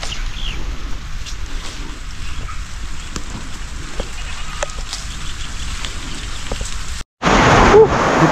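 Steady rain pours down, a dense continuous hiss that briefly cuts out and then comes back louder and closer. No one speaks.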